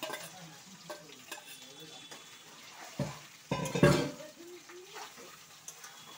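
Fish roe hits hot oil in a pan alongside onions, for a snake gourd dish, with a faint steady sizzle and a few louder bursts of spattering and utensil clatter midway.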